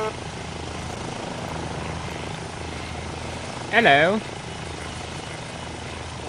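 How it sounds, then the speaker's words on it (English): A helicopter in the video game ArmA 2 drones steadily overhead, its rotor chop a continuous background hum while a voice briefly speaks over it. "So who's this jackass up here in the helicopter being all crazy and shit?"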